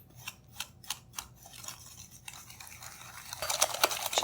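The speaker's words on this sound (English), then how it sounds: "And I'm going to whisk this and continue." Gluten-free hummingbird cake batter with brown sugar and vanilla is whisked in a bowl, first in a few slow, distinct strokes, then in faster, busier scraping and clinking close by.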